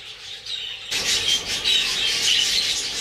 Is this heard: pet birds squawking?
yes